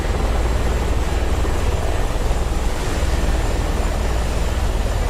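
Helicopters in the DCS World combat flight simulator during a dogfight competition, a loud, steady rotor and engine drone that runs without a break and has no talk over it.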